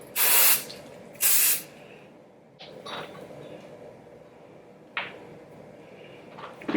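Hair spray hisses in two loud, steady bursts of about half a second each onto the back section of a long bob being styled into beach waves, followed by fainter rustles and a short hiss later on.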